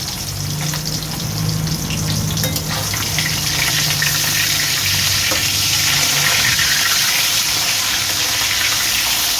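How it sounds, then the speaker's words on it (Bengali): Kalta fish pieces frying in oil in a pan over lowered gas for a white curry, giving a steady, close, continuous sizzle and hiss throughout with no pauses. "আমি গ্যাসটা কমিয়ে একটু উল্টে দিই মাছগুলো"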